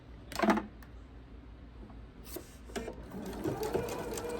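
A home sewing machine stitches fabric binding onto a quilt corner. A short busy burst of stitching comes early, then quieter rustling and faint handling noises follow.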